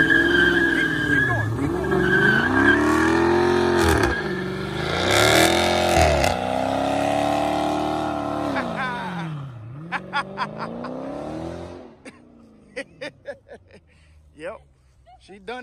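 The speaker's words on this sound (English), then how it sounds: "Well, y'all, that was the first official burnout." A Dodge Challenger Scat Pack does a burnout with loud, sustained tire squeal and a roaring engine that revs up and down in waves. The noise then cuts off, leaving scattered sharp sounds while people talk nearby.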